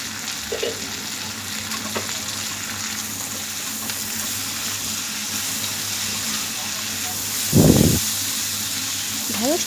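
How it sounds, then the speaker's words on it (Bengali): Okra frying with onions in a pan, giving a steady soft sizzle through the whole stretch, with a brief louder stir or clatter near the end. "ঢ্যাঁড়সটাকে আমি পেঁয়াজের সাথে ভালো করে ভেজে নিচ্ছি।"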